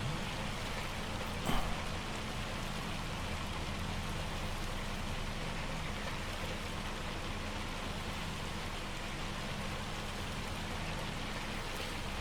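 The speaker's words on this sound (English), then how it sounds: "This hail is heavy, heavy, heavy hail, man" Heavy hail in a Farming Simulator 25 game pours down as a dense, steady hiss of pelting impacts, loud and unbroken throughout, with one brief thump early on.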